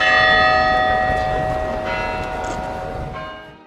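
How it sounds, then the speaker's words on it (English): A church bell at St. Basil's Cathedral in Moscow rings at noon, a single loud resonant strike with long ringing overtones that slowly fade, heard over faint outdoor ambience. "At exactly 12 o'clock, the bell rang."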